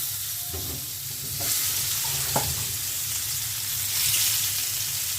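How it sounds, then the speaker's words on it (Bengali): Tilapia fish frying in oil in a home kitchen, a constant close sizzle with occasional spatula scrapes and a soft clink, swelling slightly louder at times, no speech. "তেলাপিয়া মাছটা ভেজে নিচ্ছি।"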